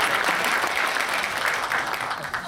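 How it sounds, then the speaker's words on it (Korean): Steady, dense applause from an awards ceremony audience fills the whole stretch, loud and even, continuing without pause as they honor a documentary filmmaker. "다시 한번 큰 박수로 축하 말씀 드리겠습니다."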